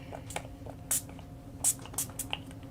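A spray bottle misting water onto a paper collage during a watercolor stamping session, giving several short, separate hissing bursts spaced irregularly over a quiet, faintly humming room.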